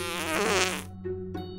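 A cartoonish fart sound effect in an Among Us parody, one long buzzing blast followed by two shorter sputters, loud and up close with no talking.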